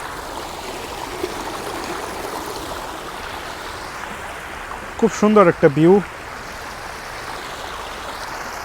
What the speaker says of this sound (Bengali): এটা কিন্তু একটা কৃত্রিম ঝর্ণা দেখতে পাচ্ছেন খুব চমৎকার পানির শব্দটা শোনেন